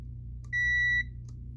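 A single steady electronic beep from a multimeter continuity test during a graphics card repair, lasting about half a second, clear and close, over a low background hum.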